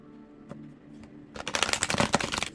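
Tarot cards being shuffled by hand, a rapid dense riffling burst that starts after a quiet moment with a couple of faint taps, close and fairly loud.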